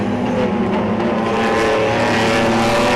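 BMW E36 328i race cars, including the Amtech entry, compete on a circuit in a BMW M Performance Parts Race Series race, their engines forming a loud, dense, unbroken roar of several cars at once.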